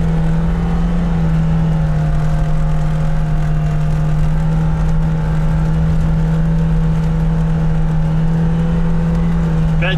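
A Lada Niva engine held at high revs, about 5000 rpm, in low-range first gear, giving a loud, sustained, steady drone with a strong hum and whirring mechanical noise inside the cabin.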